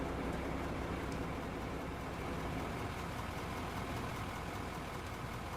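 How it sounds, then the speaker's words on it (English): A vehicle engine idles in the video game Out of Ore, a steady low rumble holding at an even level throughout with no break, heard on its own. "I left the engine running for you."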